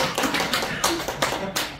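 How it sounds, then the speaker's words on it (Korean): A church revival-meeting crowd claps in a dense, lively burst, many hands striking rapidly with a few sharper accents, loud and close with no speech over it. "박수!"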